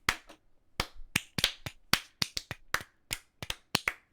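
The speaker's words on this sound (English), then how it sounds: "Let's give a round of applause for 2023" Scattered, irregular claps ring out sharply and close, like a few people clapping unevenly rather than a full crowd.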